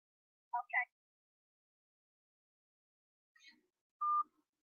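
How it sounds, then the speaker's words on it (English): A phone being dialed during an online meeting, heard as a few short, clean electronic tones in otherwise near silence, including a brief pair of beeps early on and one longer steady tone later. "Sister Evelyn, I'm going to be calling you on my phone"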